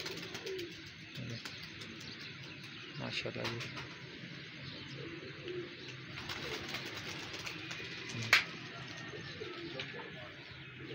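Pigeons cooing and fluttering on a rooftop during a pigeon-flying session, soft calls mixed with a busy outdoor background and someone talking over them, with one sharp brief sound near the end.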